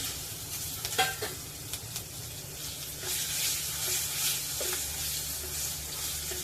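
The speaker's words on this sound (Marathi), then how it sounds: "गॅस मंद आचेवरच ठेवायचा आहे बिलकुल करपून द्यायचं नाही आहे आणि थोडीशी धनेपूड हे घालून झालं की त्यामध्ये लगेच आपल्याला मिरची घालायची आहे" Green chillies fry in oil with coriander powder over a low flame, giving a steady close sizzle with occasional stirring scrapes and clicks.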